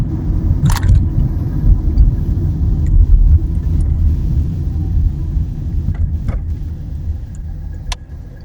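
A car driving on UK roads on a weekday morning makes a loud, steady low road rumble and engine drone heard from inside the cabin, with a few faint clicks and taps over it.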